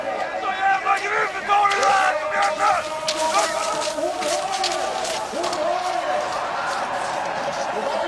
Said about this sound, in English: The cheering will get louder as she comes over the rise here.